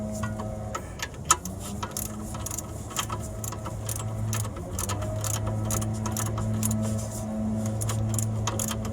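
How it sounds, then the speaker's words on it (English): A tie rod end on a car being tightened with a three-quarter socket, giving rapid light ratcheting clicks and metallic ticks over a steady hum, close and fairly quiet, with no talking. "Now let's tie this using the three-quarter socket."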